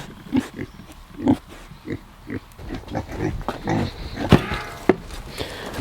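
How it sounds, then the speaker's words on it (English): Several pigs grunt in their pen in a steady run of short, close snorting bursts, with a couple of sharper louder grunts near the end and no talking. "Let's check on these pigs."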